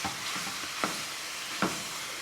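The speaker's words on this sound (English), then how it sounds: "I'm just gonna brown this ground beef." Ground beef sizzles steadily as it browns in a pan for a pasta Bolognese, with two sharp scraping clicks of a utensil against the pan bottom over the constant frying hiss; no talking.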